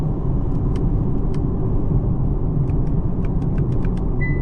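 Cabin of a Hyundai Ioniq 6 AWD electric car slowing under regenerative braking in one-pedal driving, a steady, loud low road rumble with faint ticking clicks above it and no speech.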